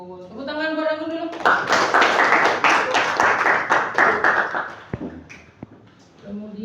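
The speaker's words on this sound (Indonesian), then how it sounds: "Tepuk tangan buat Anggun dulu." A class claps for a student in a school physical education lesson, a short, dense burst of applause that ends abruptly, with a teacher's voice speaking before and after it.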